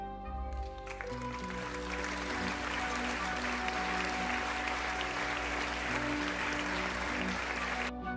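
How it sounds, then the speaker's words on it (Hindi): Loud, sustained applause from a crowd at a donkey circus show, dense clapping rising and holding steadily over background music with sustained tones throughout. "जोरदार तालियां।"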